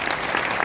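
A brief burst of loud, dense audience applause at a business seminar at Hotel Wood Castle in Raipur, steady throughout with no talking.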